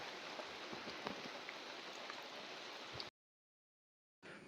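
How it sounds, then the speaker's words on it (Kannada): Rain falls on a farm during a sunny spell, a soft, even hiss of drops for about three seconds before cutting to silence, then resuming briefly. "ತಿರ್ಗಾ ಇವಾಗ ಬಿಸಿಲು ಮಳೆ ಬರ್ತಾ ಇದೆ ಬಿಸಿಲು ಇದೆ ಮಳೆನೂ ಇದೆ"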